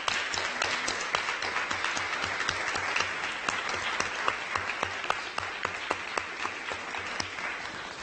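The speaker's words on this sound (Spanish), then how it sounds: "Los despedimos con un fuerte aplauso" Applause at the close of a university diploma class session, sustained dense clapping from an audience over eight seconds, fairly even and continuous with a few sharper individual claps standing out.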